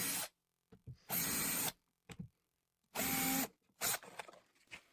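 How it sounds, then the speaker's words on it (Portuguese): Short bursts of a power drill boring screw holes into the larger leaf of a concealed cabinet hinge, two long whirring runs with brief taps and handling clicks between, close and alone. "vamos furar as 3 posições dos parafusos na folha maior da"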